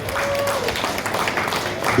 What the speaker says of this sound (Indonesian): tepuk tangan kita sekali lagi